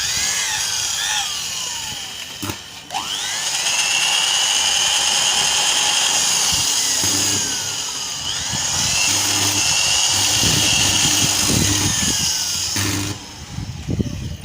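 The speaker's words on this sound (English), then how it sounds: "We are going to first drill" A power drill boring into a broken or welded bolt with a 10mm bit to make a centre hole, a loud steady whine running in long sustained bursts with brief dips between them.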